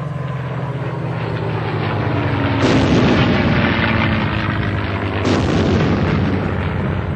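Aircraft engine drone with two loud broadband explosive bursts at about 2.6 and 5.3 seconds, consistent with bombs dropped by a World War II P-51 Mustang-family A-36 in skip bombing, sustained noise after each blast.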